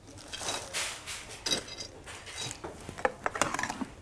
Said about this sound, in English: So I'm going to put about a cup of almonds